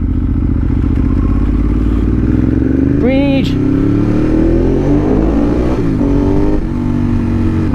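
A Ducati 1098 motorcycle with a fresh flash tune idles and revs close by, a loud steady engine drone with rising pitch sweeps, while someone speaks briefly over it.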